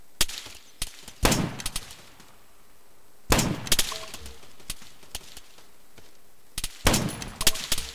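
ArmA 3 gunfire: sharp, loud cracks of shots arrive singly and in short clusters, with quieter gaps between volleys and a thin background hum.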